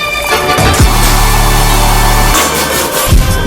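Hard trap screech synth sample with loud, dense distorted tones over a heavy sustained sub-bass, punctuated by sharp pitch-dropping sweeps near the start and end, with no voices.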